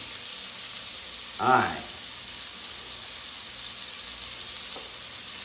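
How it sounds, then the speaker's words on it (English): A beef roast for a French-style roast sears in a hot pan, giving a steady, even sizzle throughout, while someone speaks briefly partway through. "So while that's searing on one side"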